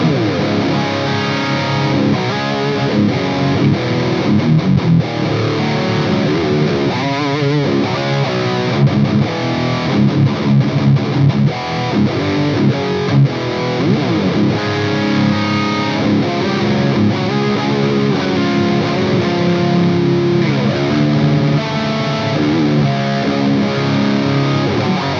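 A distorted electric guitar plays chugging riffs and chords through the drive channel of a PRS MT15 amp with all controls set halfway, loud and continuous with rhythmic palm-muted bursts and sustained notes, with no talking.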